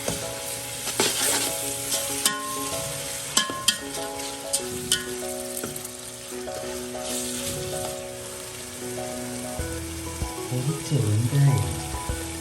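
Onions and ginger garlic paste fry in a pan for fish biryani, a constant close sizzle with intermittent spoon scrapes and stirring clatter, louder bubbling toward the end; no talking.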